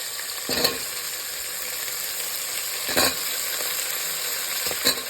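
Drumstick and onion pieces fry in a pan, making a steady close sizzle with a few brief stirring scrapes.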